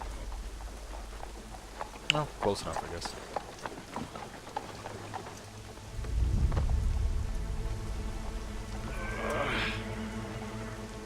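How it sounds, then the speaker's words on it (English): Rain falls in the video game Assassin's Creed 3, a steady hiss that swells midway and continues beneath someone speaking, with a horse's whinny near the end. "rain. Very pretty."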